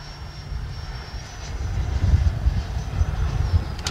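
An FMS Integral 80mm electric ducted-fan RC jet on a high-power LiHV pack flies overhead under a blue sky, giving a steady, fairly distant whooshing turbine whine with wind rumble that swells toward the end.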